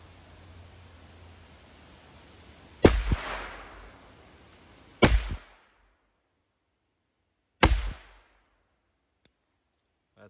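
Three sharp air rifle shots from a Huben GK1 Shorty ring out loud and close, spaced a couple of seconds apart, each with a short ringing tail, over faint background hiss.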